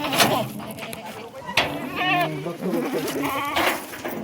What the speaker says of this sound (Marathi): एकच नंबर क्वालिटी शेळ्या